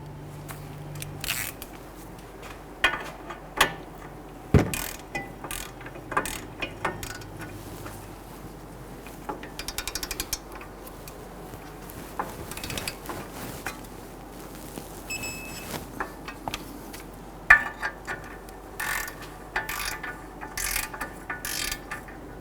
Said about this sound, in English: Once you get your bolts in, you want to torque these to 122 foot-pounds